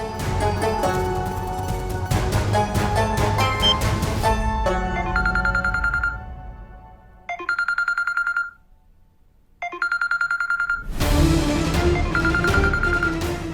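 A phone rings in repeated electronic bursts, loud and close, with pauses between rings and a brief burst of other sound at the start and end.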